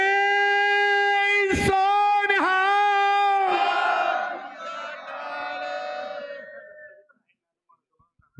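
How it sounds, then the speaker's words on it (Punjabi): A crowd roars a Sikh jaikara war cry at an honouring ceremony held on a sports ground: a long, loud, unified shout of many voices that swells, then breaks into scattered cheering and fades to quiet. "ਆ ਜੈਕਾਰਾ ਲਾਈਏ ਬੋਲੇ"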